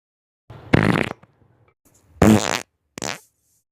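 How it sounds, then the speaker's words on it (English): Three fart sound effects in a row: a long wet blurt, a second loud burst after a pause, then a short squeaky toot, close and isolated with no talking. "I'm going to fart on them."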